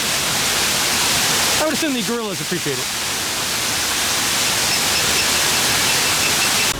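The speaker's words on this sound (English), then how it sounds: "every waterfall is working, like in both enclosures" A waterfall in the gorilla enclosure at Busch Gardens Tampa gives a constant loud, broadband rushing wash from start to end, and a person briefly speaks over it partway through.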